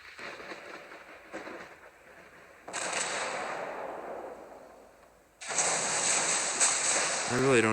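An enemy ship fires a salvo at a lightly armored light cruiser in World of Warships Blitz, with sudden loud blasts and a lingering rumble breaking in twice over continuous sea and battle noise.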